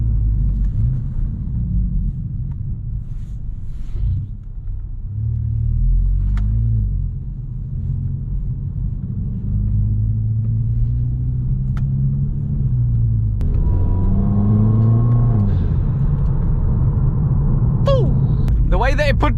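Volkswagen Scirocco engine pulling hard under acceleration from inside the cabin, a loud continuous low rumble that swells and climbs in pitch, with a person talking over it.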